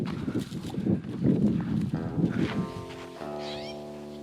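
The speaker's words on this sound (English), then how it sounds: "The stupid cow literally just charged me." A charging cow's hooves thud and clatter heavily across rough ground outdoors, fairly close and irregular, before a lower droning tone takes over and the hoofbeats fade.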